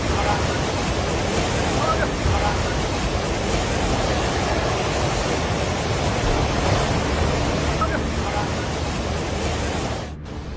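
Floodwater from a flash flood in Nepal rushes in a loud, unbroken roar of churning water and noise, with a reporter's voice over it in Hindi.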